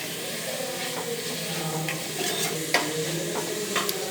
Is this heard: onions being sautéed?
yes